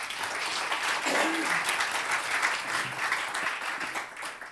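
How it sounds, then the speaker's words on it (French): A conference audience at a plenary session applauds two presenters with steady, continuous clapping that holds at a fairly even level and tapers slightly near the end. "Yannick Hadoche et Adrien Théffen, vous pouvez les applaudir."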